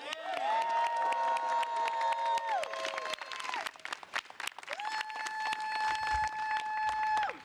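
A crowd claps and cheers steadily at a rally for New York Mayor Eric Adams celebrating FY25 executive budget initiatives, with sustained high tones running over the dense clapping throughout.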